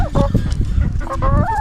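Backyard garden hens in a coop cluck in quick, close bursts, several birds overlapping with short rising calls and busy chatter.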